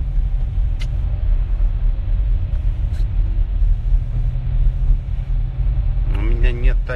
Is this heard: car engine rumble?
yes